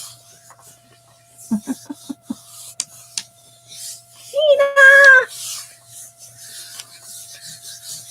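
A cat meows in a Gelli printing craft session, one drawn-out rising and falling call near the mic, after a quick series of rasping scrapes, with quiet room noise around it.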